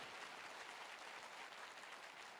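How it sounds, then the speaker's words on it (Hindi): Audience applause for the teachers at a speech by Gurudev Pranav Pandey, a soft, steady wash of many hands clapping that sounds distant and continuous throughout. "मैं चाहूंगा जोरदार तालियां हमारे गुरुजनों के लिए।"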